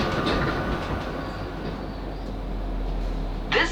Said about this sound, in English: This train is now approaching its final stop, London Waterloo.